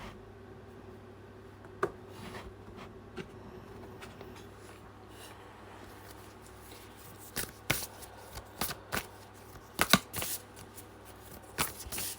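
Tarot or oracle cards being shuffled by hand, soft riffling and slides that build into a cluster of crisp card snaps and taps, close and quiet with no talking.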